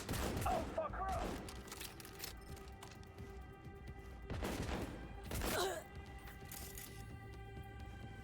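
Gunfire in the video game Cyberpunk 2077 comes in a few faint, distant bursts of rapid shots against a low steady background.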